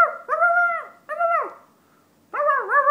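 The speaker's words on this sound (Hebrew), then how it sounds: "נובח הכלב" A dog gives three drawn-out, tonal yelping calls that rise and fall like whines, each about half a second long, with clear silent gaps between them.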